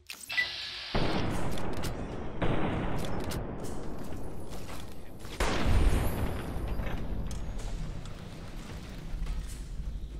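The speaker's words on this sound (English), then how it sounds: "they use energy weapons." Energy weapons fire in Fallout: New Vegas, several loud zapping bursts and booming blasts in quick succession, each with a sharp onset and a long crackling decay.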